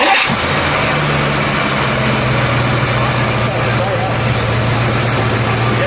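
A green 1959 Dodge Custom Royal engine cranks briefly and catches, then settles into a loud, steady, close idle with a low, even rumble that holds to the end.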